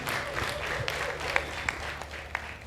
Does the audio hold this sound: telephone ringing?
no